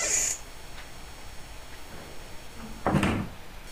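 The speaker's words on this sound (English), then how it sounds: "I heard a door open" A short creak followed a few seconds later by a louder clunk of a door opening in the horror video game The Black Cat, heard over a quiet background with no speech.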